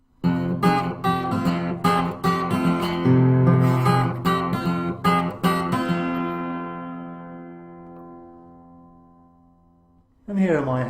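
An acoustic guitar plays a fingerpicked Kentucky blues pattern, with clear, close plucked notes and bass thumbs in an even rhythm. The final chord rings out and slowly decays before another sound starts at the very end.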